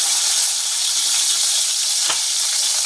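Chicken frying in hot oil in a pan while being browned for a stewed chicken dish: a steady, close, bright sizzle with one brief sharper pop midway.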